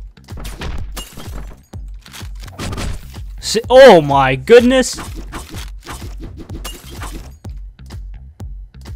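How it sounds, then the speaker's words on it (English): Glass shatters in the Hotline Miami video game, a sharp breaking crash with a brief ringing tail mixed in among loud, excited talking. "Look at all this glass."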